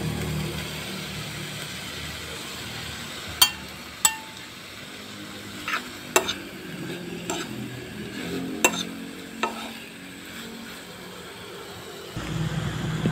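Sea shells sautéing in a pan with ginger, onion, garlic and pepper: a low, steady sizzle broken by a handful of sharp metallic clinks as a utensil stirs and knocks against the pan.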